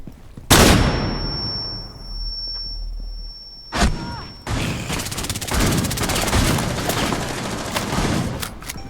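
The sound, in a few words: gunfire in the video game Rainbow Six Siege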